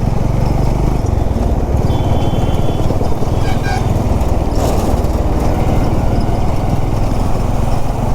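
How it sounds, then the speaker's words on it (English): Honda CB350 motorcycle riding over a bad patch of highway road, a loud, continuous engine rumble with wind and road roar throughout. "This bike is well capable of, handling bad roads quite well."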